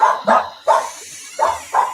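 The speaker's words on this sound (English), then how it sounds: "I'll just wait for the dogs to stop barking so I can get Matt's announcement across." Dogs barking nearby in a short rhythmic series of about four or five loud barks, spaced with brief pauses, with no talk over them.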